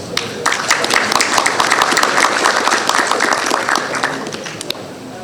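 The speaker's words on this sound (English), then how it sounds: "I think this deserves an applause" Loud, sustained applause from an audience at an aviation industry summit in Africa, dense clapping filling the room for about five seconds with some voices mixed in.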